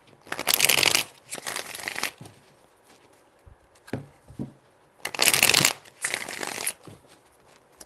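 A deck of tarot cards is shuffled in four distinct bursts, each a crisp riffling flutter close by, grouped in two pairs separated by quiet pauses with a few light taps between.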